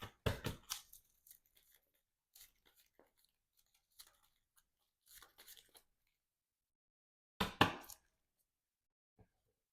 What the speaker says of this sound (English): let's shuffle up the encounter deck